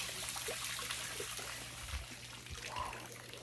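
A pond pump sends water trickling and splashing in a steady, fairly quiet stream, with a low constant hum beneath it.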